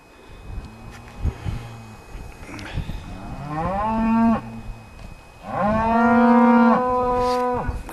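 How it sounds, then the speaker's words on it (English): Cattle bellowing below a hillside path near woods, several long drawn-out moos rising loud and close, the last one longest and strongest, with wind and faint outdoor noise between calls. "cattle bellowing down below"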